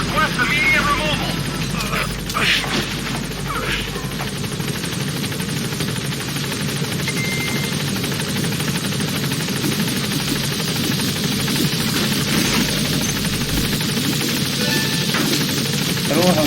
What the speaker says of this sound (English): This is helicopter Pequod.